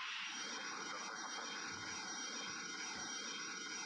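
A simulated Boeing 777 takeoff in the AirLine Commander game gives a steady, smooth jet engine roar with a high whine on top, holding constant at moderate loudness.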